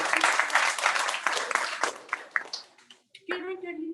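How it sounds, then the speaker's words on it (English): Audience applause and scattered clapping at a Teatro Carpa show in San Diego, honoring a grandmother on stage, loud and mixed with talk, fading out near the end before a voice returns. "Un aplauso para la abuelita."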